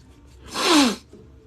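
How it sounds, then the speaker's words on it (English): A single loud, close human sneeze bursts out in one sharp puff, standing alone against a quiet indoor background. "Oh, man, I'm sneezing again."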